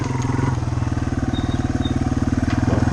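Yamaha TW200 motorcycle cruising in third gear at a decent pace with a child on the back: a loud, steady single-cylinder engine drone with a fast, regular pulsing beat and no let-up.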